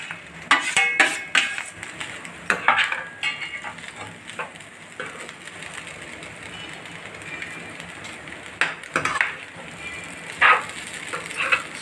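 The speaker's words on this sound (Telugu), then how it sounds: "ఇలా ఇప్పుడు ఇందులో చికెన్ వేసేస్తున్నానండి నేను." Chicken is added to a pan for homemade chicken noodles and stirred, bringing close metallic scraping and clatter of a utensil against the pan, with irregular louder clanks over a steady sizzling hiss and no talking.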